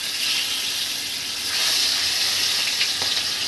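Hilsa fish frying lightly in mustard oil in a hot pan, a steady soft sizzle and hiss holding level throughout with a few faint pops near the end.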